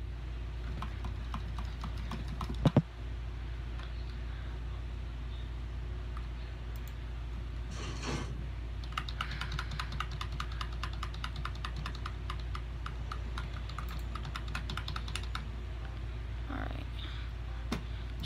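Computer keyboard keys clicking rapidly during gaming, a quiet run of sharp taps that thickens into bursts in the second half, with a couple of louder knocks early on and no talk.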